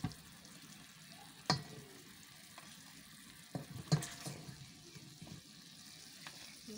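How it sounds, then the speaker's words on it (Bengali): Pond roe fish frying bhuna-style in a pan, a quiet low sizzle broken by a few sharp clinks and scrapes of a utensil against the pan. "প্রথমেই মাছ এভাবে খুব সুন্দরভাবে ভুনা করে নিতে হয়"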